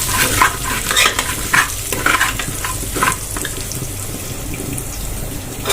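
A spoon scrapes and churns through a thick, sizzling pot of chicken haleem as green chillies are mixed in, giving steady wet stirring strokes with a bubbling hiss underneath and no talking.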